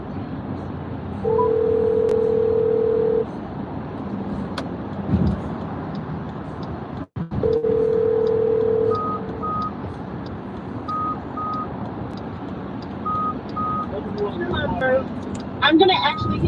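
Telephone dialing to return a call: a steady tone plays twice, followed by several short paired beeps near the end, heard against a faint background hum.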